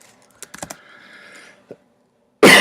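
A short burst of typing on a computer keyboard, several quick close taps, then quiet, ending in a sudden loud rustle or bump.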